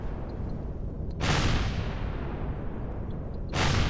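Rockets launched in Empyrion - Galactic Survival, two loud whooshing blasts a couple of seconds apart over a constant roaring engine drone, close and with no talking.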